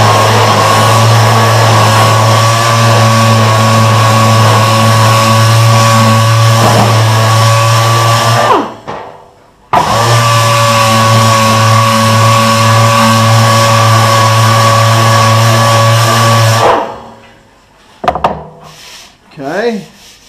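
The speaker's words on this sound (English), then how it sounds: "Now watch what happens when I hit that with a sander." A power sander works the rear fender of a 1954 GMC truck, a loud steady droning grind in two long bursts separated by a short pause, ending with a few faint scrapes.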